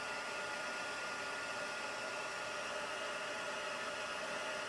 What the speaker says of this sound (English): my heating gun. I'm going to heat this up